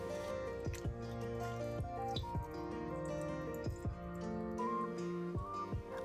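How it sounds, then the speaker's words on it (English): Grilled eggplant skin is peeled in a bowl of water, giving soft wet drips and squishy splashes that repeat irregularly over a low, steady background. "We can peel off the skin so easily in the water."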